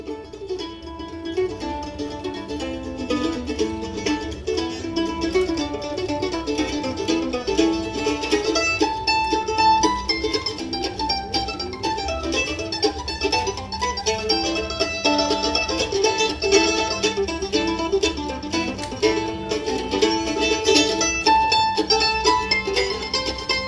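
Bluegrass performance of a fiddle tune, dense acoustic string-band playing with steady, continuous rhythm at full level throughout, no talking.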